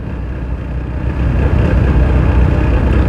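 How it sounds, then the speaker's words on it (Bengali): A TVS Apache 160 4V motorcycle engine runs low on fuel, making a loud, rough, uneven rumble that surges and stumbles without settling, heard close up with no voices. "বাইকটা প্রচুর ধাক্কাচ্ছে।"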